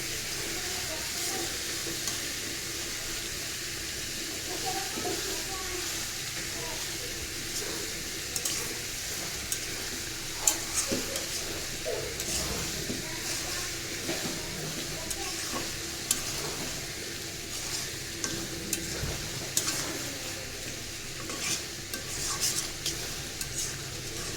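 Curry being stirred and fried in a pan for a family Eid meal, with steady sizzling and repeated scraping stirs of a utensil against the pan, plus occasional metal clinks, close and continuous throughout.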